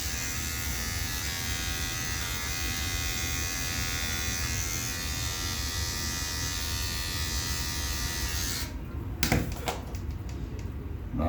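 An electric beard trimmer buzzes steadily and close up while trimming a beard at home, a continuous motor hum that runs unbroken for most of the clip before it cuts off near the end, leaving a few faint clicks and handling noises.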